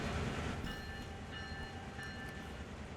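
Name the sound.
empty coal train running in video game Train Sim World 2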